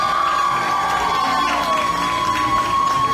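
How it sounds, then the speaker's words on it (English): An audience at a breast cancer charity event cheers and whoops, with crowd noise and some high shouts sustained throughout; a steady tone runs underneath. "Please, let's take this time to give them a round of applause and thank them."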